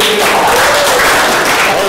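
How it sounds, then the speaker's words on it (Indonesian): A class of students applauds together after group presentations in a school lesson, making a loud, dense wash of clapping that fills the whole short stretch. "beri tepuk tangan untuk kita semua"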